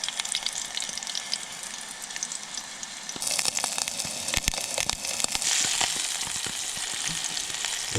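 Food frying in oil on a wood stove in a hot tent at a frozen alpine lake, a steady close sizzle with sharp pops and crackles that grows louder and brighter partway through.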